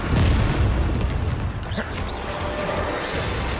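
A Confringo spell blast in the video game Hogwarts Legacy comes as a dense, loud, booming crash that fills the clip continuously, heavy and close, with no clear gaps.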